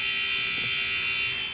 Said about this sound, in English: A hoist at the buzzer by Angelo Reddix